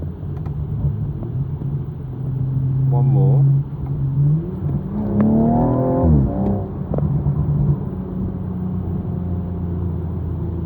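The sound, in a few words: BMW M135i accelerating after paddle downshifts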